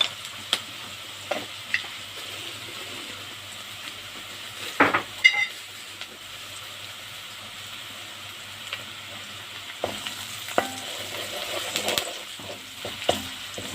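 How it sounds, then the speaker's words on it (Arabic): Onion sautés in a pan with spices, black pepper and bay leaves. A soft, steady sizzle sits under scattered stirring scrapes and a few utensil clinks, close by, with no voices. "بتفرق كتير لما تحطي التوابل مع البصل كده وتشوحيها كده مع البصل"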